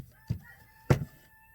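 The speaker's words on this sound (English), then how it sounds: "You roosters!" Roosters crowing outdoors behind an indoor setting: two short, loud calls about half a second apart, the second stronger, over a quiet background.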